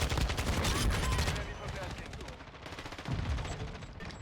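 Kastov 545 rifle fire in a video game on PS5, sounding as dense, rapid bursts of automatic shots that are loudest in the first second and a half, then ease off and pick up again near the end.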